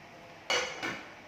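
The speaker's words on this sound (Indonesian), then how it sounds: "Kita kocok dulu berasnya seperti ini." Uncooked rice shaken and swished in a Magic Com rice cooker pot, two short gritty rattling bursts close by, with near silence before and between.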